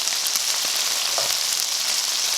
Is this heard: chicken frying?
yes